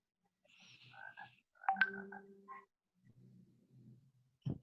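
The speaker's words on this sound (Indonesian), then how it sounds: "Itu ada kodok." A frog croaks near the microphone during an online maths lesson: a few short, irregular bursts separated by quiet gaps, ending with a sharp knock.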